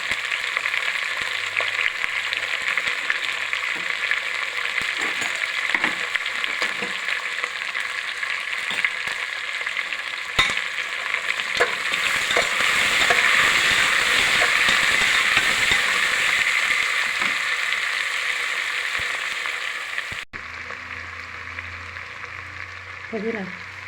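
Onions frying in a pan for mutton biryani, a steady broadband sizzle and hiss lasting about twenty seconds, with occasional stirring scrapes and a quieter, duller passage at the very end.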